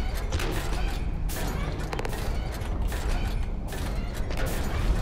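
Dense, continuous mechanical gunfire and clanking from enemies in a mech combat shooter, with rapid repeated bursts and rattling throughout a short, loud stretch.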